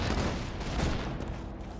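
Borderlands 2 combat on Xbox One X, with a dense, loud, continuous barrage of overlapping gunfire and explosions and no pauses.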